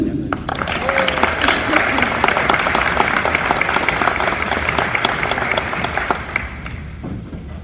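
Loud, sustained crowd applause at a school athletic awards and Hall of Fame ceremony, steady dense clapping filling the room before tapering off near the end.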